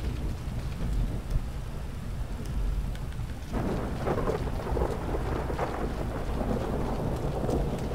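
A video game thunderstorm with heavy, constant rain and low rolling thunder rumbling underneath, the downpour growing louder and harsher about halfway through, with no voices.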